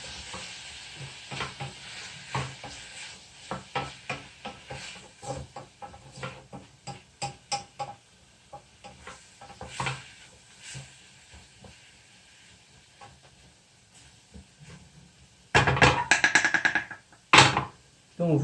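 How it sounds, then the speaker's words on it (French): Golden Curry sauce with vegetables stirred in a pan, a steady run of soft scraping and clicking strokes with light sizzle, ending in a few louder, sharper clatters near the close. "Vous mélangez bien."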